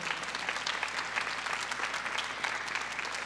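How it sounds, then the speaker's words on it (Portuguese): A church congregation applauds in a continuous, even patter of many hands that stays steady throughout at moderate distance. "Aplauda esta palavra de fé."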